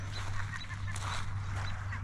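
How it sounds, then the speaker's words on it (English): Seabirds honking and calling repeatedly along the shoreline at Bowman Bay, Washington, moderately near over a steady low rumble of water and wind. "A lot of birds, seagulls, the nice water hitting the coastline."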